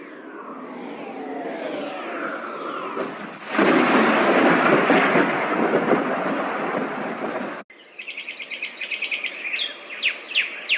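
Birds chirp and call, then a loud crack and rumble of thunder with rain takes over before more rapid bird chirping returns.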